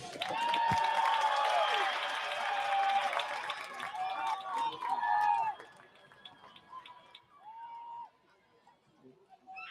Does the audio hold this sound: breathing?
no